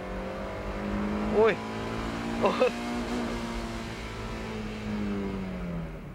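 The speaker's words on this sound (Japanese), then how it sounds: "おお、ホイールスピンがすごいな。" A Eunos Roadster (Mazda MX-5) launches at a track race start, its engine droning steadily with rising revs and wheelspin. A voice speaks briefly over it.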